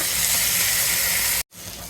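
Koi fish fries in oil in a steady, bright hiss. It breaks off for a moment, then resumes slightly softer.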